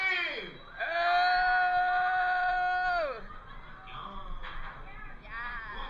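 Riders on the Griffon dive coaster at Busch Gardens Williamsburg scream through the 205-foot drop. One long, loud sustained scream rises and holds for about two seconds, then gives way to rushing noise and fainter cries.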